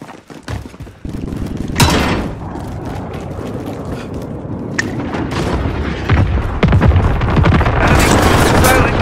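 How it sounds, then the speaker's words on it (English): Heavy booming impacts from a white phosphorus strike in Call of Duty: Modern Warfare, a loud thud near the start followed by continuous rumbling blasts and crackle that swell louder toward the end. "Enemy white phosphorus incoming."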